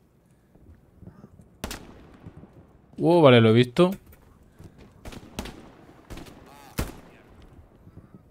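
Sharp gunshots in the video game Hell Let Loose crack out singly and in short bursts against a quiet background, with a voice speaking Spanish in between.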